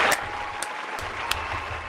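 A short burst of applause plays as a sound effect, a dense, even crackle of clapping that fills the moment without any voices.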